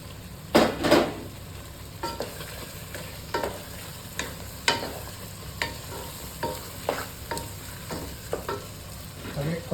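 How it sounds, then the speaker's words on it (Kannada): Fried potato and capsicum are stirred in a pan for aloo capsicum: a spoon scrapes and clinks against the pan in irregular strokes over a constant low sizzle, with a louder clatter near the start. "ಕ್ಯಾಪ್ಸಿಕಮ್ ಫ್ರೈ ಮಾಡಿಟ್ಟಾಗ ಕೆಪ್ಸಿಕಮ್ ಹಾಕ್ತಾ ಇದ್ದೇನೆ ಬಟಾಟೆ ಕೂಡ ಫ್ರೈ ಮಾಡಿದ್ರೆ ಹಾಕ್ತಾ ಇದ್ದೇನೆ"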